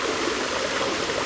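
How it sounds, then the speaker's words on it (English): Waterfall heard as a dense, steady rushing roar of falling water, loud and continuous throughout with no talking. "The waterfall."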